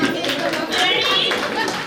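A small crowd at a baby shower claps for the couple, a brief burst of loud, dense applause with some chatter mixed in.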